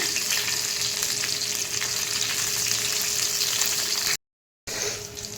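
Garlic and chillies fry in hot oil in a pan with a loud, dense, continuous sizzle close by, briefly cutting to silence near the end before the hiss resumes; no one speaks.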